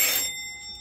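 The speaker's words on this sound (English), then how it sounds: "That was the doorbell back in the day." An old doorbell in a Victorian mansion gives a single bright metallic ring that strikes at once and then rings out with a clear, sustained tone, fading quickly.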